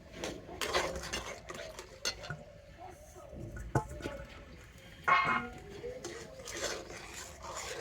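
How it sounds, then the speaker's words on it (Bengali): Semolina is stirred little by little into milk in a pot, giving soft close spoon scrapes and light clinks against the vessel in irregular bursts, with quiet pauses between strokes. "সুজিটা আমি অল্প অল্প করে দেবো আর এইভাবে দুধের সাথে মিশিয়ে নেব"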